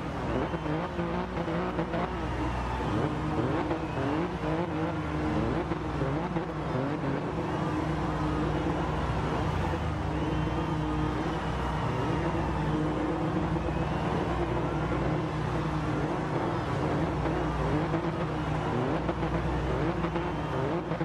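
A Toyota GR Yaris driven in the racing game Gran Turismo Sport, with a steady, loud engine drone and road noise running continuously, plus occasional tire squeal, and no talking.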